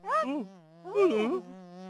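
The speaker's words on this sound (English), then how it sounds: "It's a fly." A cartoon fly gives two short, close buzzing bursts that swoop in pitch over a steady low drone, the second slightly louder than the first.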